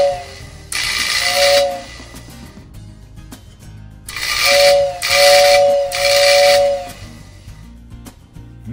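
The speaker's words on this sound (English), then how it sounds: "I might as well see if the whistle's working" A small whistle in a prewar 2224W toy train tender blows in hissing, breathy bursts, one short toot followed by three longer blasts, each with a thin tonal pitch over the hiss.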